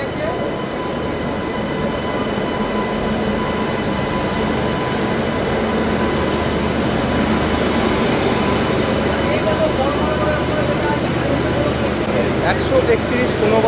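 At Sealdah station the Kanchankanya Express rolls in at platform 12, a steady loud rumble with a faint squeal near the end and voices talking over it.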